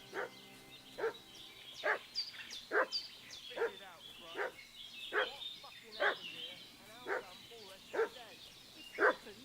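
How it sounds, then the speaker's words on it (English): A dog barks in a video game, a steady series of about ten sharp, fairly close barks spaced roughly a second apart, with faint ambient game sound beneath. "What's that dog making such a fuss about?"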